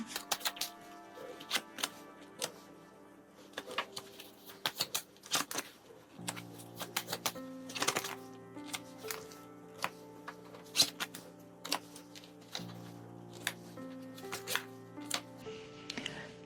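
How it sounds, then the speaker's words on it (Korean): Tarot cards are drawn and laid down, with soft, irregular clicks and taps of cards over gentle background music with sustained tones. "4번 카드 뽑아보겠습니다."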